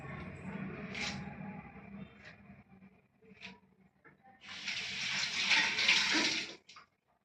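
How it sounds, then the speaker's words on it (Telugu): Water from a tap runs over curry leaves being washed, a soft splashing at first, then a louder steady hissing stream that stops abruptly; a voice talks quietly early on. "కరివేపాకు డబ్బలు తీసుకున్నాం కదా ఇవి శుభ్రంగా కడిగేసి అందులో వేద్దాం"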